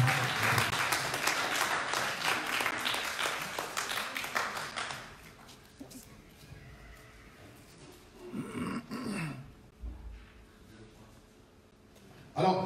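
A church congregation breaks into sustained applause, loud and dense for about five seconds before it fades. Voices, cheers and scattered claps follow, and a lone clap comes at the end.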